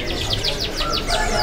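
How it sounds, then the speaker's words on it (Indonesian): Local budgerigars chirp at a kiosk in a busy bird market, with a rapid series of high, sweeping twitters running throughout over a low crowd murmur. "untuk selanjutnya kita pantau ada burung parkit. Nah, ini yang parkit lokal ya."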